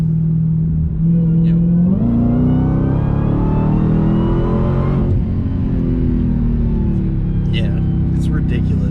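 A Dodge Hellcat Redeye's supercharged engine rumbles, and its pitch climbs in a rising pull as the car accelerates, then settles into a steady drone. It sounds loud and close, with faint voices heard over it.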